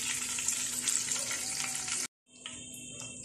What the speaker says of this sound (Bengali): চিংড়ি এবং চিকেনগুলো আমার গোল্ডেন ব্রাউন কালার করে ভাজা হয়েছে